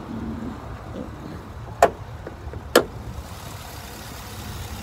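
A 2014 Chevrolet Camaro SS engine idles as a faint, steady low rumble in the background, with two sharp clicks standing out briefly above it.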